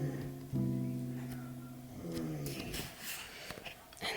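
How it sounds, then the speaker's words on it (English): Heavy snoring from a person or dog dozing nearby in a living room with a recliner, deep droning breaths repeating close to the mic, rough and rumbling with a few faint clicks toward the end. "snoring there"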